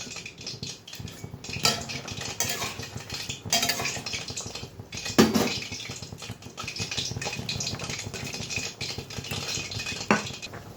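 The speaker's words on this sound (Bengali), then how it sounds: "ঢাকনাটা উঠিয়ে বড়াগুলো ছেড়ে দিই।" A pot lid lifts and fried fritters go into a cooking pot of potato-poppy seed curry, with repeated clinks and clatters of metal cookware and a sharper knock midway, close and fairly quiet.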